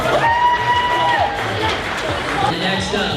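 Audience at a cosplay competition cheering and clapping after a contestant's presentation, a lively crowd roar with shouts and whoops, while a voice talks over the noise.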